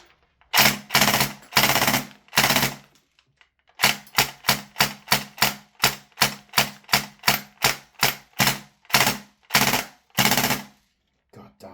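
VFC M249 gas blowback airsoft rifle with a high-capacity conversion firing loud, sharp, close shots: a few short bursts, then a long run of evenly spaced single cracks with brief gaps between them.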